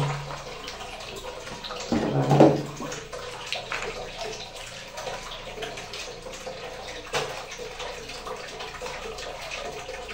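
Strong water pours from a tap in a bathroom, a steady rushing splash with a louder burst early on as it fills, continuing close and constant throughout.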